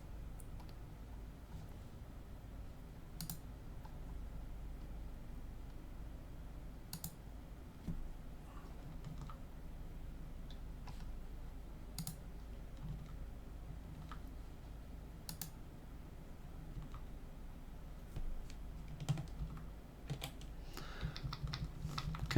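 A computer keyboard is tapped steadily for over twenty seconds, soft clustered keystrokes with sharper isolated clicks, probably arrow keys, recorded close and quiet over faint room hum.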